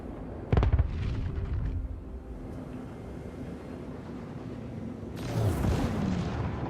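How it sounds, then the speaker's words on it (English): Missiles and bombs explode in the Star Citizen game. A sharp blast comes early, followed by a low rumbling drone, then a louder burst of explosions near the end. "You can see all the missiles and bombs going off."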